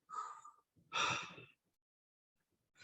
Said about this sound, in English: Just take a breath with me.